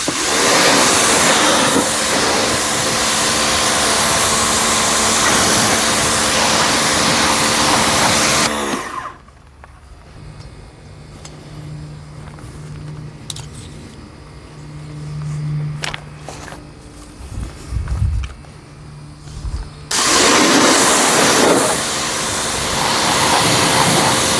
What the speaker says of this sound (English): When you're using a pressure washer, try not to stay in one area too long.